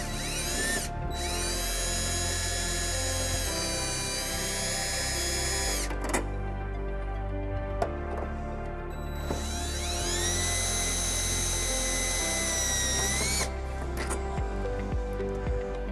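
A power drill with a Phillips bit backs out taillight screws on a 2018 Jeep Wrangler JK, giving two long whirring runs, each starting and stopping with a short rising and falling whine, heard close.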